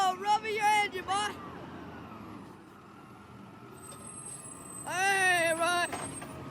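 A garbage truck backs up on a street, its reversing alarm beeping steadily through the whole stretch while hissing air brakes and engine rumble sit underneath, with people talking nearby.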